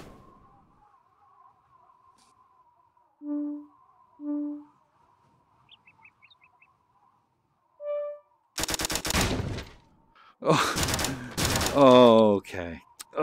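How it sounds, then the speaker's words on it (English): Tommy gun fired in a VR skeet shooting game: after a quiet stretch of soft tones, loud rapid automatic bursts break out, then a voice talks over and between further bursts. "I wonder if the Tommy gun is the one to use."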